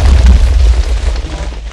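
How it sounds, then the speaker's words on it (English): A house blown up in a Minecraft game detonates as one loud, deep boom at the start, its rumbling roar fading over the next second and a half. "I will blow up Mikey's house."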